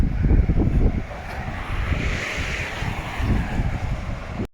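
Wind gusts buffet the microphone on the Blackpool seafront, with the low wash of ocean waves rolling underneath; the rumble swells and eases unevenly, then cuts off abruptly at the end.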